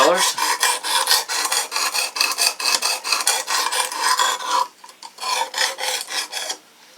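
A knife is drawn repeatedly across a 320-grit abrasive on a Work Sharp Precision Adjust sharpener, making close, even, rhythmic rasping strokes with a brief pause near the end.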